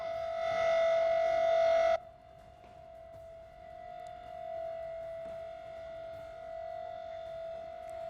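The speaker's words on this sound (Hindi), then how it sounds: "के हिसाब से अब ये सायरन यहां पर बज रहा है।" A civil defense war siren sounds during a mock drill in Delhi, a steady sustained wail with a loud harmonic-rich start that thins after two seconds into a fainter continuous tone.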